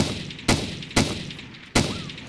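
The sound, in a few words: gunshots in the video game DayZ Epoch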